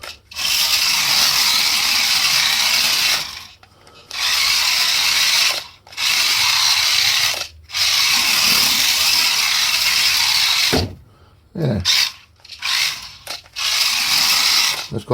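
Small rear-wheel-drive RC tuner car on normal rubber tyres, drifting at full speed: a loud, high whirring electric motor whine in long sustained bursts, with brief drops between runs and short gaps near the end.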